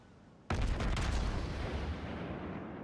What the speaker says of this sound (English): I'm trying to lob shells over this island towards this Myogi